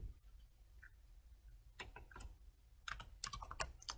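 Quiet keyboard typing: soft, scattered clicks that pick up into a quicker burst of keystrokes toward the end.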